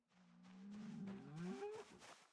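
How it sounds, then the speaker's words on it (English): Cow in Project Zomboid, giving one long, low moo that rises and bends upward in pitch before trailing off, heard alone and fairly quiet. "there's a cow over there"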